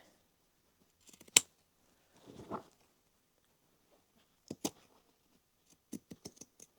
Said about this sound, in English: you can just clean up that edge by just doing some trimming so that you will prevent fraying